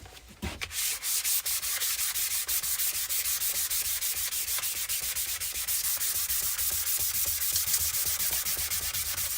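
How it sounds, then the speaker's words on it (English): Sandpaper of 400 grit is rubbed by hand across an epoxy side table in quick, even back-and-forth strokes, a close, dense scratchy rasp repeating steadily without talk. "One last light hand sand."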